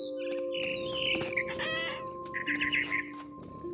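In What Remains of Edith Finch, a mother bird gives a few clucking, chattering calls over a steady tonal drone, fairly close and clear, with one burst of rapid squawks in the middle.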